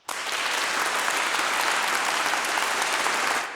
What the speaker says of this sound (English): They can clap.